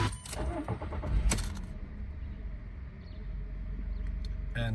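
A Volkswagen Polo Vivo cranks with a few rattling bursts and catches, settling into a steady low idle rumble heard from inside the car, with a small click near the end.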